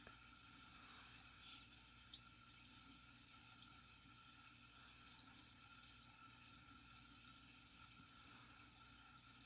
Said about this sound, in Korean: 보글보글보글 끓고 있습니다. 술이 한약수를 넣은 막걸리입니다.